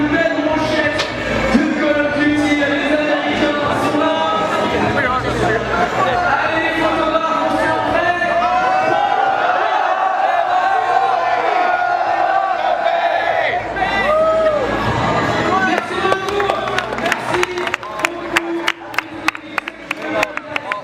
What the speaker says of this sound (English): the crowd was electric